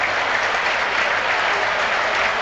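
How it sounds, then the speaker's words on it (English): Stadium crowd at the Etihad applauding Ilkay Gundogan during Manchester City versus Ipswich Town, a dense, steady roar of clapping filling the whole stretch without a break. "The Etihad stands to applaud and salute Ilkay Gundogan"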